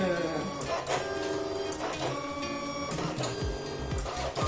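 A Silhouette Cameo 4 cutting machine runs with a steady mechanical whir and buzzing motor tones, heard close under continuous talking.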